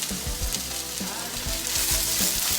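Diced eggplant sautéing in a pan with chili and salt for Pasta alla Norma, giving a continuous close crackling sizzle with soft tonal background sounds.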